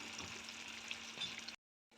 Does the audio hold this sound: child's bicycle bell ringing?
no